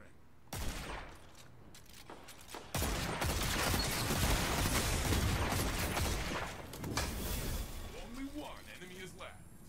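Rapid hand cannon gunfire from the Sunshot in a Destiny 2 Trials match, a sharp burst followed by a dense, sustained stretch of shots and explosive impacts, with a player's voice talking over the action.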